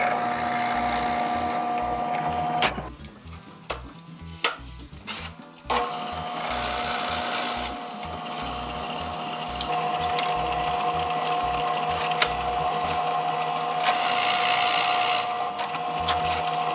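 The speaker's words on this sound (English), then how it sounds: "that should allow me to drill a hole from either side of the slat" A power drill whines steadily boring into a wooden apron slat, stops briefly with a few clunks, then runs again for a long stretch.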